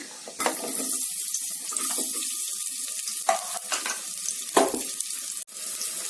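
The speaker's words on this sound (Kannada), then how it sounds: "ಈರುಳ್ಳಿ, ಬೆಳ್ಳುಳ್ಳಿ ಒಂದು 10 ನಿಮಿಷದಷ್ಟು ಫ್ರೈ ಆಗಿದೆ" Chopped onion and crushed garlic frying in a little oil in a cooker, a steady close sizzle with scraping stir strokes and a few louder clatters, no voices.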